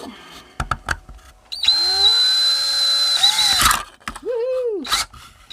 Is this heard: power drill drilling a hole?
yes